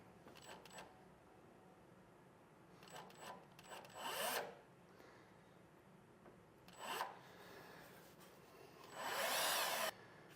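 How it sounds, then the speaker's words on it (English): A drill with a quarter-inch bit whirs in a few short bursts while drilling holes, with quiet pauses between them and a longer grinding run near the end. "I'll take a 1/4 inch drill bit. I'm going to drill out each one of those spots"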